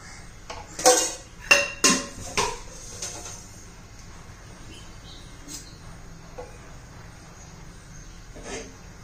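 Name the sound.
pan on the stove as oil is added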